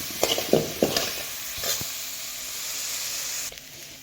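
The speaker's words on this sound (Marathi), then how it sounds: "छान असं हलवून घेतलं थोडं भाजून घेतलं" Potato and chilli pieces being stirred and roasted in a pan for khichdi, a few sharp scraping stirs followed by a steady close sizzle, no voices.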